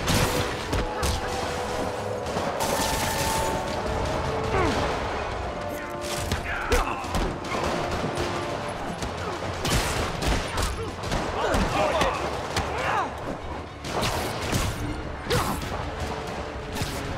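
Gunfire in Marvel's Spider-Man Remastered, repeated shots and bursts with crashes, thuds and swooshes from the fight, fairly loud throughout, with voices talking at times.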